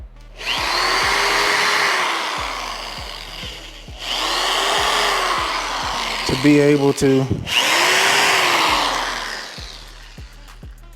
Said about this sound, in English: it's a 1/4 inch drill bit